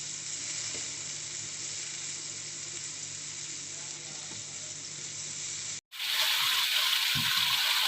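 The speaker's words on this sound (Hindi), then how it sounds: "अब इस मसाले को हम अच्छी तरह भून देंगे।" Steady, dense sizzling of masala paste frying in a hot pan, continuous and close, with a brief break before the sizzle resumes louder.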